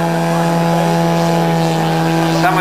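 A biplane flying a smoke display drones steadily with a continuous engine and propeller tone, loud and constant from start to finish.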